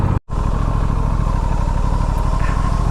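A motorcycle engine warms up before a ride, idling steadily and close by with an even, continuous rumble after a momentary dropout at the very start.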